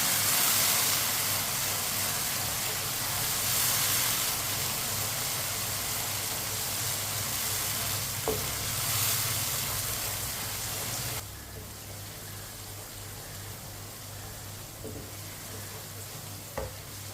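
Onions and a little water being stirred in a hot pan for chana pulao, a continuous close sizzle and steamy hiss with soft scraping stirs, which drops quieter partway through.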